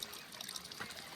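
A mountain stream trickles on a hill-fort trekking trail, a faint, steady watery babble with no talk over it.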